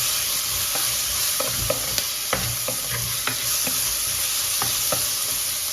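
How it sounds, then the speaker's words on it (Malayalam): Chopped tomato and onion sautéing in a pan for a Tamil Nadu–style potato masala: a steady close sizzle with repeated sharp spatula clicks and scrapes at an uneven rhythm, no voices. "ഇനി അതിലേക്ക് നമ്മൾ ഒരു തക്കാളി മുറിച്ച് വെച്ച ഒരു തക്കാളി ഇട്ട് ഒന്ന് അതും ഒന്ന് വഴണ്ട് വെക്കാം"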